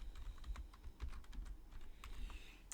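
Rapid keystrokes on a computer keyboard while a variable name is entered in a Tinkercad Circuits code editor, a steady close run of light clicks with no talking.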